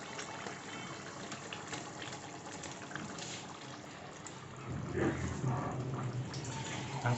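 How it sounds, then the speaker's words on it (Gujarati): Water is poured into a pan of Gujarati dhokli curry, a faint trickling wash that swells into a fuller, steadier pour partway through, heard alone in a quiet kitchen. "લાગે છે ને થોડું પાણી નાખીશ"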